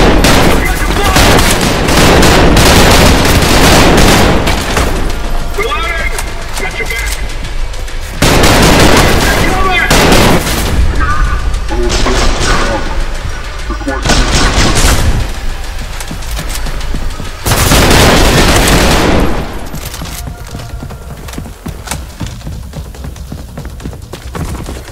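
Loud gunfire from the shooter game Trepang 2 comes in heavy repeated bursts and rapid volleys with explosive blasts, separated by brief quieter gaps.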